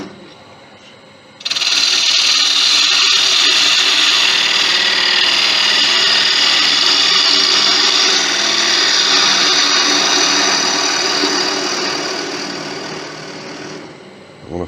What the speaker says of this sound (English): the smaller ball gouge, and just start eating this away.